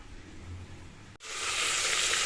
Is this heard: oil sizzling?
yes